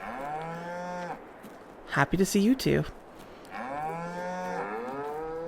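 Cows in the Farming Simulator 22 video game give long, drawn-out moos, one at the start and another near the end, with a short burst of speech between them.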